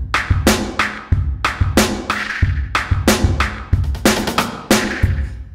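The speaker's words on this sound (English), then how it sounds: "and if we just chose like a regular convolution reverb" A Maschine expansion drum kit through a regular convolution reverb, a steady punchy beat of kicks, snares and hats with each hit trailing into a thick, roomy tail, loud and continuous.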